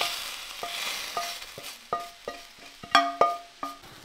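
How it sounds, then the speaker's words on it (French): Eggs cooking in a pan, with a run of sharp, ringing clinks and taps from a utensil striking the pan at an uneven pace over a faint, steady sizzle. "Les œufs c'est génial, ça cuit en 30 secondes."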